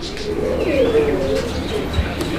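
Two fancy pigeons on a Bangladeshi pigeon farm coo softly and continuously up close, a low warbling murmur with a few faint chirps mixed in.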